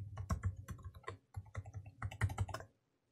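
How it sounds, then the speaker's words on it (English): Rapid clicking keystrokes on a computer keyboard as a password is entered, close and crisp in uneven bursts, then stopping abruptly into silence. "I'll type in the password for my user on the other end."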